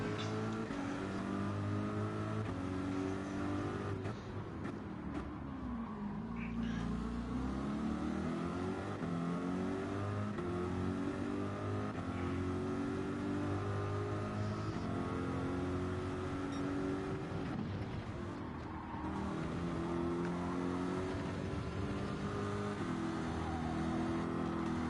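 GT3 race cars at Fuji, including a Corvette, accelerating through gear changes: a continuous engine roar rising and falling in pitch with shifts, heard from inside the car, with brief radio talk over it.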